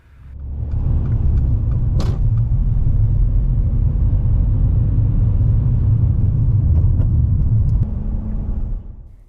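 A car pulls away during a driving test, its low engine rumble rising quickly and holding steady and close throughout, with a brief click near the start.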